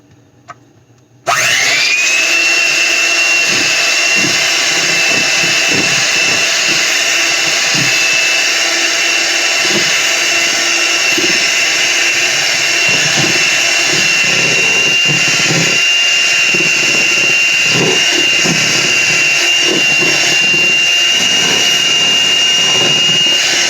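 A kitchen blender whirs loudly and steadily while mixing birthday cake frosting, starting abruptly after a brief quiet moment and running nonstop for over twenty seconds with a high motor whine.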